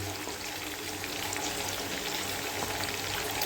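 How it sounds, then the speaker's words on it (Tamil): Chicken fries in oil with a dense, even crackling sizzle and a low steady hum beneath, fairly faint and unbroken, with no talking. "சிக்கன் நல்லா பொரிச்சிட்டு இன்னும் நல்லா வேகட்டும்."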